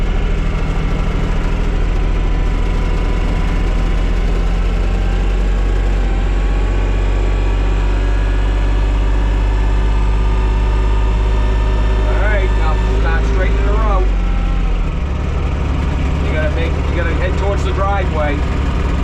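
A TYM tractor engine runs steadily throughout, a loud low-pitched drone with constant vibration while the machine is driven, and voices talk briefly over it near the end.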